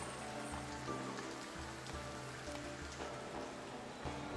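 Pouring rain in the video game Foundation, a dense continuous patter on surfaces with low rumbling underneath, steady and fairly loud throughout without speech.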